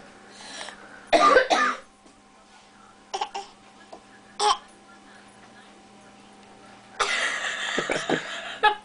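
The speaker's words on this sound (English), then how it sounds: "Are you coughing?" A young child lets out repeated, somewhat forced-sounding coughs: a strong burst early, a couple of brief ones in the middle, then a longer rough run near the end, close against a quiet background hum.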